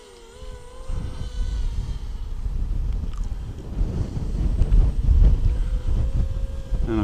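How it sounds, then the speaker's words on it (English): Gusting wind buffets an XK Models XK 450 RC drone and the microphone outdoors, a steady rumbling roar that swells louder toward the end, with a thin motor whine faintly running above it. "It's being battered about by that wind."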